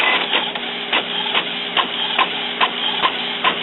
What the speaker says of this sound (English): now I'm going to print out some 1117